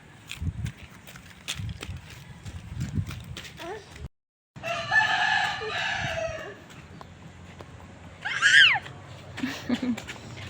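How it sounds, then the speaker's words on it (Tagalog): A rooster crows loudly outdoors near the sea, one clear cock-a-doodle-doo rising late in the clip, with people talking and footsteps around it. "Chicken."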